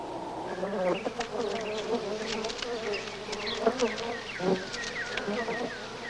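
A honeybee buzzing close by while foraging for nectar, a steady wavering drone that shifts in pitch as it moves, with no talk.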